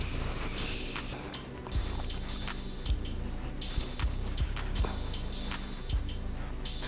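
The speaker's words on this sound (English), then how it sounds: "Let me spray my face just to" A setting spray misted onto a face after powder foundation, a soft continuous hiss close by with a few small clicks and taps, no talking.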